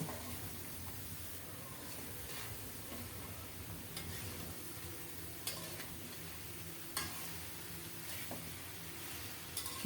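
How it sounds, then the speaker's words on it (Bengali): Bottle gourd with bean seeds, turmeric and spices, with small shrimp, stirred in a pan over the stove: a steady close sizzle of frying runs throughout, broken by a few sharp clicks and scrapes of the spoon against the pan. "ভালো করে নেড়ে চেড়ে সব কিছু মিশিয়ে দিয়ে"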